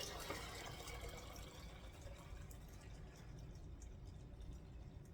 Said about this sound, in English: I have my pressure canner over here. It has water in it. I'm not heating it up because everything is cold. So I'm going to fill it up.